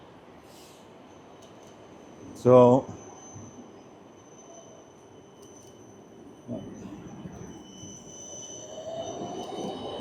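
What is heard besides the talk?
tram passing in Budapest street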